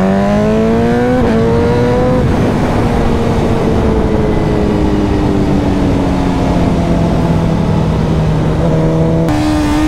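BMW S1000RR superbike in a drag race, a loud, close engine whose pitch climbs, drops at a shift, then surges and sags unevenly before rising again near the end.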